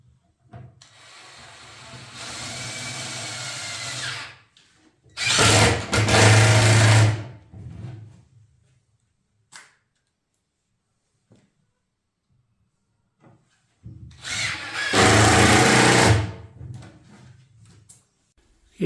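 Power saw cutting wooden pieces for a chicken coop frame, with a longer run of steady machine whine followed by two loud, close bursts of cutting separated by quiet pauses with faint handling noises.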